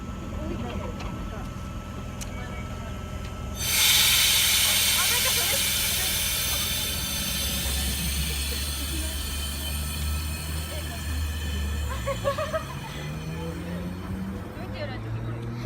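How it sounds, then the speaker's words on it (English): A Sydney Trains V set leaves Katoomba station with a loud broadband air hiss, then a low engine rumble that rises in pitch as it pulls away, and voices talk throughout. "V3 is now departing platform number 1"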